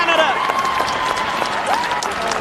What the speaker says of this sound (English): Warm applause from the crowd at Doncaster